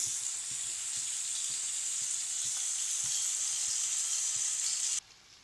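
Chicken leg pieces fry in hot oil with a steady, bright sizzle and faint crackles, close and continuous with no talk, until the sound drops away abruptly near the end.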